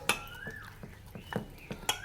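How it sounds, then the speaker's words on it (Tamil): Ingredients for a weight-loss soup, seasoned with rock salt and turmeric, are stirred in a pot, giving a few close clinks and scrapes of a spoon against the metal at irregular intervals, with no talk. "இப்போ எல்லாம் சேர்த்துட்டோம் இப்போ இதை வந்து நல்லா கலந்து விட்டுரும்"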